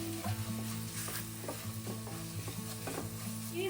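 Spices including garam masala stirred in a hot pan for Kerala egg rice, a soft continuous sizzle broken by regular scraping strokes of a spoon against the pan, close and alone.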